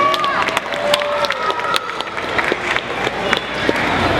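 Audience at a magic show applauding with scattered cheers and crowd noise, steady clapping lasting a few seconds at moderate loudness.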